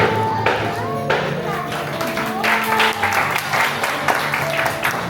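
Applause breaks out at an 18th birthday party, a dense patter of clapping mixed with voices and a faint tonal ring, filling all five seconds at steady volume.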